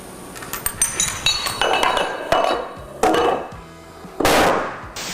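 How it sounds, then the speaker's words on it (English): Tiny handmade dominoes, about 5 millimetres high and 1 millimetre thick, topple in a chain as a run of crisp, close clicks and clinks in several bursts with brief pauses between them. "you can knock it off starting with a small little domino like this"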